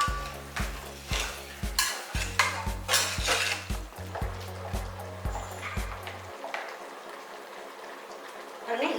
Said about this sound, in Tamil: மட்டன் வந்து நல்லா வதக்கிடலாம்.